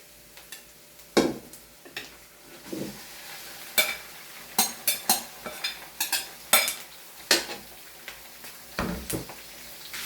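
Pork meat stirring and frying in a pan with browned, softened onions for dinuguan, with repeated sharp scraping stirs and clinks over a steady low sizzle, close and moderately loud.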